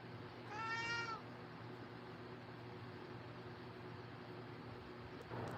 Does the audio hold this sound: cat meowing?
yes